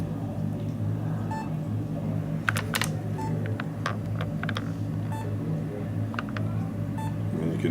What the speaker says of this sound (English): And you can hear it beep.